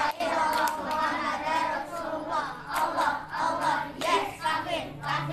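Children clap along rhythmically to a chanted clapping game about the pillars of Islam at a group gathering, with young voices chanting between and over the claps.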